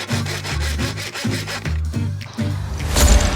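A hand saw cuts through wooden sections for a narrowboat fit-out, with close, rhythmic back-and-forth strokes about twice a second and a brief scrape at the end.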